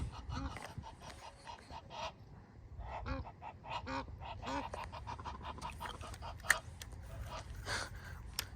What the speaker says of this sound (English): The swarm of geese is coming.